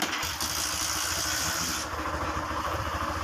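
A motorcycle engine runs at a raised, steady high idle after a valve had been sticking, a loud continuous rumble with a brief shift in tone partway through and no talk.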